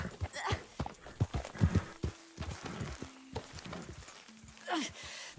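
Horse hooves clip-clop on the ground in Red Dead Redemption 2, a steady walking rhythm with snorts, close and moderately loud, mixed with light game ambience and brief talk.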